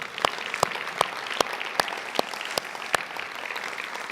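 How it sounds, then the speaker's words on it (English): Crowd applause for a high school chamber choir at a morning event, with a loud spread of clapping from many hands and a few sharp, evenly spaced claps standing out every fraction of a second, no voices heard. "let's give another round of applause to Chattahoochee High School's chamber singers"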